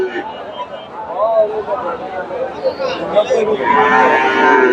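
Friesian cattle moo loudly several times at a livestock market, deep drawn-out calls, with a murmur of voices in the background.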